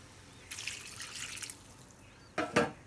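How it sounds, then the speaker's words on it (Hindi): Water is poured into a Maithili-style dalna tarkari curry in a cooking pot, about two glasses' worth, heard as two short splashing bursts separated by a quiet pause, with no voices. "इसमें हम 2 गिलास पानी लगभग दऽ देलिए हैं"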